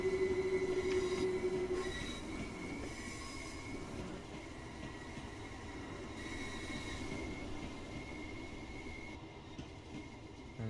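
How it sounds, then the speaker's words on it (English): A train passes a level crossing in the railway simulator game Train Sim World 2, rumbling steadily with squealing wheels and a faint high crossing tone, moderately loud and continuous, with no talk. "Let's watch the train pass the level crossing."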